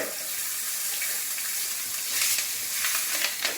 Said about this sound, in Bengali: আমি পাঁচফোড়ন, তেজপাতা, শুকনো লঙ্কা, হলুদ আর এই যে কাঁচা লঙ্কা ফোড়ন দিয়ে দিলাম